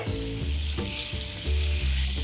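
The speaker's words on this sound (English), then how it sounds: "Yeah, we're frying the broccolini." Broccolini sizzles and fries steadily in a hot pan, a dense crackling hiss broken by stirring and tossing knocks, close and loud, with no one talking.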